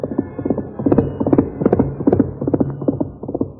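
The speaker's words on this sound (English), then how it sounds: "Silver's hoofs beat out a savage tattoo" Silver, the Lone Ranger's great horse, gallops hard over rough ground, its hoofs pounding out a fast, steady clip-clop rhythm, close and continuous with no talk over it.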